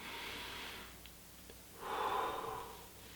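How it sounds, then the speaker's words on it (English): A slow deep breath, a soft drawn-in inhale followed by a fuller, louder exhale, close and quiet with no talking. "that's when you take a deep breath"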